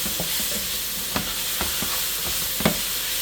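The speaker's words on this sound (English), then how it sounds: "So let me stir this." Stir-fry vegetables with soy sauce being stirred in a hot pan, a steady close sizzle under repeated spatula scrapes and light taps, no talking.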